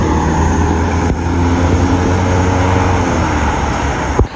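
A BMW XM drives past with a loud, steady engine roar that fills the whole stretch, ending in a brief sharp burst as it goes by.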